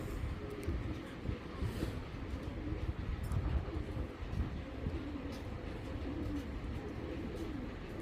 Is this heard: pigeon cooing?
yes